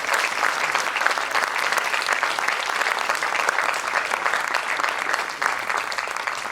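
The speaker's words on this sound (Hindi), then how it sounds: "जोरदार तालियों से स्वागत करें।" An audience at Ravindra Manch applauds after a Hindi theatre play, a loud, sustained burst of clapping from a full hall that holds steady for several seconds before easing slightly.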